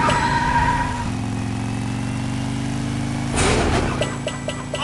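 Cartoon car engine from the PJ Masks Hero Academy driving game, a steady mid-pitched hum that shifts gear around the one-second mark, then swells with a brief noisy burst near the end, with small game effects.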